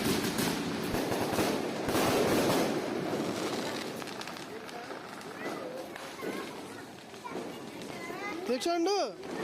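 Diwali fireworks crackle and pop in bursts amid excited shouting and children's chatter, ending with a shrill whistling rise.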